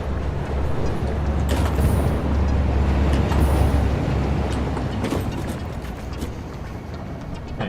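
Video game train running along its line in a factory-building game, a continuous heavy rumbling roar with occasional hissing bursts like air brakes, steady and loud with no talking.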